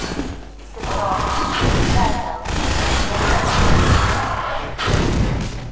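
A gun in the video game Half-Life 2 fires in loud, dense bursts of rapid thudding shots mixed with booming impacts, close and harsh, continuing across the stretch with short gaps between volleys.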